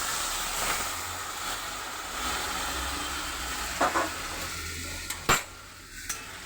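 A spice mixture for pumpkin curry fries lightly in a pan with a constant loud hiss, as a few utensil clinks and scrapes sound near the end.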